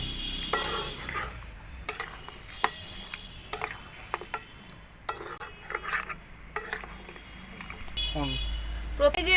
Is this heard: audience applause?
no